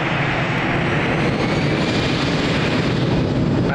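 An airliner takes off from runway 02 at Lisbon Airport, its engines giving a loud, steady, broadband roar that fills the whole clip without pause.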